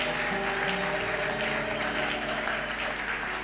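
A church congregation applauds together, a steady wash of clapping from many hands at a moderate level beneath a low hum.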